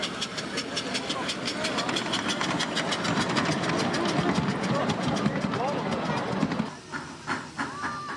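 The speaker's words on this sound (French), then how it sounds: "la grande variété des trains qui y circulent" Model trains of many kinds run along a layout track, a dense continuous rumble with rapid rhythmic clicking that thins out and becomes more sparse near the end.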